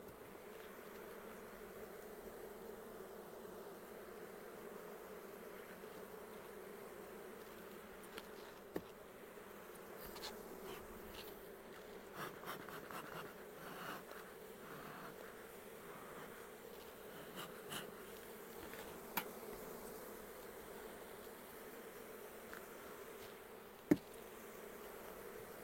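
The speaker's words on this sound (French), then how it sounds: "les abeilles vont aller récupérer le miel sans déclencher une émeute, du pillage dans le rucher" Steady buzzing of many honeybees around hives in an apiary during a honey flow, a continuous drone with occasional louder passes of single bees close by.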